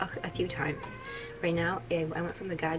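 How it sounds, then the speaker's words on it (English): A house cat meows a couple of times, short tonal cries rising through a person's ongoing talk about coffee gear, close and moderately loud. "That's my cat."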